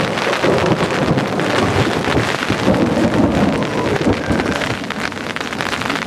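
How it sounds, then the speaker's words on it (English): A prairie thunderstorm near Sunrise, Wyoming, brings heavy rain pattering loudly on a surface and low rolling thunder, with some wind buffeting the microphone. The downpour stays dense and continuous throughout. "thunder and lightning sitting on here, waiting for Chuck to come back."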